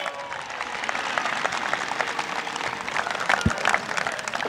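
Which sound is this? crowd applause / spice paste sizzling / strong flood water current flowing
crowd applause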